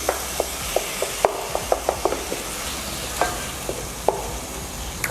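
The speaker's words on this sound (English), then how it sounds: "I'm going to add the mashed aubergine. And mix it all really nicely." Mashed roasted aubergine is mixed in a pan over a soft background sizzle, with a steady series of light, knocking spatula scrapes and taps close by.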